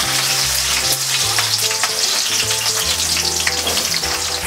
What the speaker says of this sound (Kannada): ಎಣ್ಣೆ ಕಾದ್ಮೇಲೆ ಸಾಸಿವೆ ಹಾಕೋತಾ ಇದ್ದೀನಿ, ಕರಿಬೇವು, ಹೆಚ್ಚಿಟ್ಕೊಂಡಿರೋ ಈರುಳ್ಳಿ,